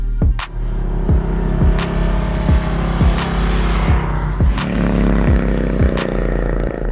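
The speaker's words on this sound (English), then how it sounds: "We're at Angeles Crest Highway on a 2020 Harley-Davidson Lowrider S." A 2020 Harley-Davidson Lowrider S riding on Angeles Crest Highway, a loud close low engine rumble rising and dropping through repeated shifts, with sharp clunks at each gear change.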